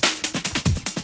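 A short, dry drum pattern of quick, evenly spaced hits, with kick and snare sounding thin and unprocessed, played alone.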